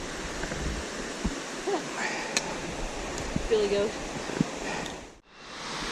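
A waterfall in Walton Glen Gorge, heard beside a cliffside hiking path, gives a steady, enveloping roar of rushing water that fills the whole stretch, with a few brief spoken words over it.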